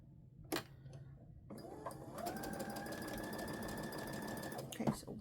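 Sewing machine stitching a quilt block, starting after a few handling knocks and then running at a steady, fast, even whir with a sustained tone, stopping just before a final clunk.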